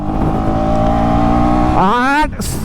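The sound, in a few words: KTM Duke 250 motorcycle accelerating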